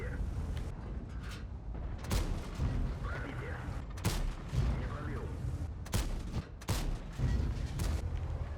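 World of Tanks gameplay of an Object 279 early tank firing on a Type 5: repeated sharp cannon booms and shell impacts over a rumbling engine and battle background, with someone talking throughout.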